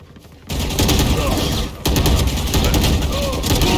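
Valorant gunfire, a sustained spray of loud, dense automatic shots with a brief pause partway through, heard over talk.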